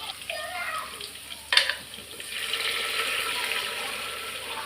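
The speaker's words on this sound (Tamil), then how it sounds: "இந்த வெங்காயம் நல்லா வதங்கட்டும்" Onions sautéing in a hot pan give a soft, steady sizzle and crackle, with one sharp clatter of a utensil partway through before the frying hiss swells and continues.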